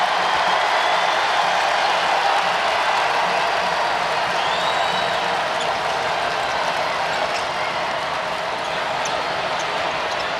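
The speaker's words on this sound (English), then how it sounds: "here comes the crowd" A packed basketball arena crowd roars as Illinois hosts Purdue in a Big Ten men's game, a dense, steady wall of cheering that stays loud throughout with faint whoops on top.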